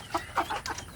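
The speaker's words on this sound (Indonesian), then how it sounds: "ini untuk kelompok anak ayam kampung saya yang paling besar gitu" Kampung chicken chicks from the largest group of a flock, giving several short close clucks in quick irregular succession, with no talk.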